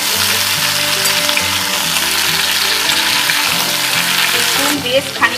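Pointed gourd and sliced onion rings sizzle loudly in hot oil in a pan, a steady dense frying hiss with soft stirring scrapes throughout, close up and with no talking.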